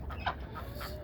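Chickens cluck softly in a yard on a fall morning. A few short, nearby clucks sit over a steady low background, with no talking.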